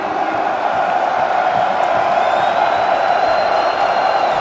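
Arena crowd at the PGL Major Antwerp 2022 esports grand final, NAVI versus FaZe, giving a loud, steady roar of cheering that fills the space throughout, with no individual voices standing out.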